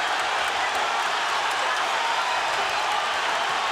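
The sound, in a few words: boxing arena crowd cheering, Pacquiao vs Marquez fight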